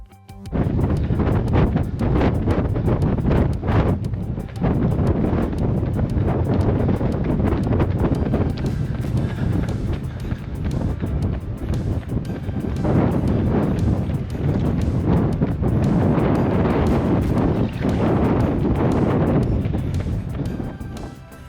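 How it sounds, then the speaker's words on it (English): Strong wind buffets the microphone during a long coastal run at Portaferry, a loud, continuous roaring rush that surges and eases over twenty seconds with no talking. "So that's just a wee example of the wind that I'm experiencing."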